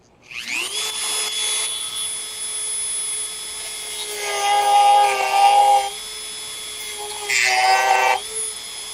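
Small Dremel-style rotary tool whining at high speed as it spins up and cuts into part of a resin-coated heat gun, the pitch dropping and growling under load twice.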